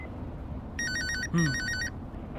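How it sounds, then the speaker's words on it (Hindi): A mobile phone rings in a dramatic indoor scene, giving two short bursts of a bright electronic ringtone with a brief low tone between them, against quiet room background. "मैं फोन रिसीव कर सकता हूँ?"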